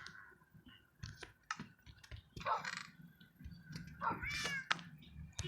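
Cats meowing in Minecraft, several short mews overlapping at close range, mixed with quick mouse and keyboard clicks.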